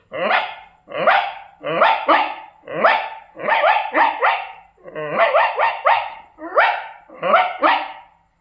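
A human voice imitates puppies growling and yapping in a rapid series of short, rhythmic bursts, about a dozen in all, loud and close.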